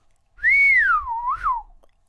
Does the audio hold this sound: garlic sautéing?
no